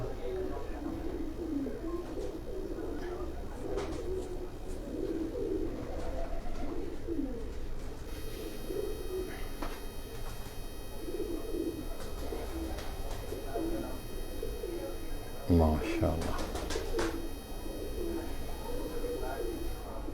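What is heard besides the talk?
pigeons cooing on a rooftop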